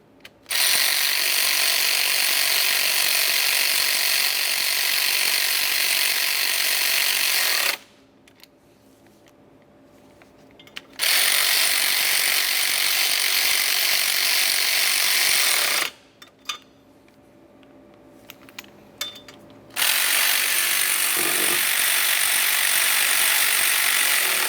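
Ratchet wrench snugging up the mounting bolts on a 2004–2010 BMW X3 alternator, in two long bursts of rapid, steady clicking close up, with brief quiet gaps of small mechanical handling between.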